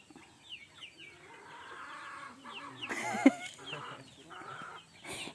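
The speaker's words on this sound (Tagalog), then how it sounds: "Yan mga manok," Several hens cluck and chatter close by, with a short louder squawk in the middle and soft background noise.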